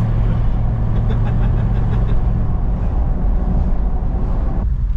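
An old truck rolls along on the road, its engine and road noise forming a loud, continuous rumble throughout, with no voices.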